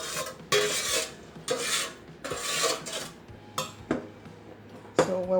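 Apple and sugar cooking into a thick syrup in a pot, stirred in repeated rasping scrapes against the bottom, several distinct strokes with short pauses, close and fairly quiet, no talking.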